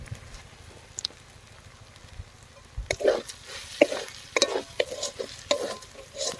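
Ground cumin, coriander and dry chili powder are stirred into masala frying with garlic and ginger paste for ghugni with mutton fat, a spoon scraping and clattering against the pan over a soft sizzle.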